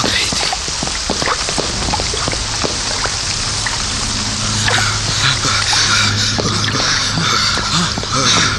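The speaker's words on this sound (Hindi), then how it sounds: "मूसलाधार बारिश हो रही थी।" Heavy rain in a Hindi radio play drums steadily and loudly throughout, with scattered drop impacts and a faint low hum beneath, under a speaking voice.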